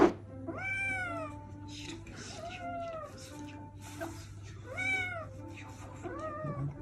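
A cat meows repeatedly in drawn-out, rising and falling cries, close and clear over a low steady hum, with several separate calls spread across the stretch.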